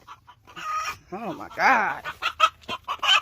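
A backyard chicken clucks loudly and insistently, a burst of agitated squawking calls close by, with a voice exclaiming over it.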